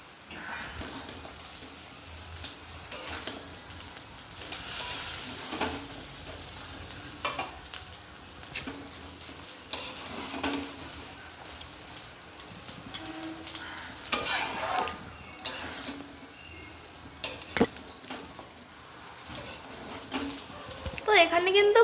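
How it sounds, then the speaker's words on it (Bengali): Banana flower curry being stirred in a pan after fried peanuts, coconut and fritters are added, with a steady sizzle and scraping throughout and a voice talking over it. "ভালো করে নাড়িয়ে নেবো।"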